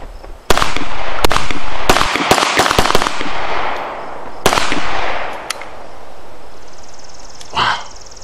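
A Tec-9 pistol fires a burst of loud, close shots in an uneven rhythm, mostly fast and tightly spaced, with a few isolated cracks and echoing tails outdoors.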